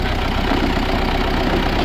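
A used Euro 60-horsepower four-wheel-drive tractor engine idles up close with a loud, steady diesel rumble and a fine, even mechanical knock that does not change pitch.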